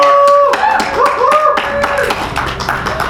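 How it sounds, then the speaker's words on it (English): Applause for a reader at a live reading event, loud and close, with dense clapping that fills the room and slowly thins out. "please give him a round of applause."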